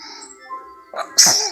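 A young boy sneezes once, a short sharp burst after a breathy intake, close and fairly loud, with a faint voice briefly in the background beforehand.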